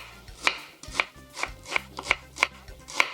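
A knife chops through an onion on a cutting board in about seven sharp, evenly spaced strikes, each cut landing with a crisp thud, close and fairly quiet with no talking.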